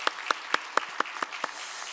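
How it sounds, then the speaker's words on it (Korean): A church congregation clapping for the kitchen team during a Wednesday service, sharp even claps in a steady rhythm of about four per second, fairly close and alone without talk. "우리 식당부 박수 한번 하도록 하겠습니다."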